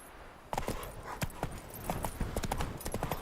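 Roach the horse gallops in The Witcher 3: Wild Hunt, a sudden run of close, loud clip-clop hoofbeats starting after a quiet moment and continuing in a quick, uneven rhythm.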